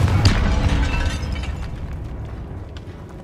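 A Confringo explosion spell cast in Hogwarts Legacy, one loud close burst with a deep boom that decays over about three seconds, with faint rattling debris toward the end.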